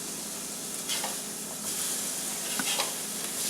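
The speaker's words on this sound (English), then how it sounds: "We're going to go ahead and flip these over." Burger Wellington patties sizzling steadily in a frying pan, a loud, continuous hiss with a few soft scrapes and taps as they are turned over, close and without talking.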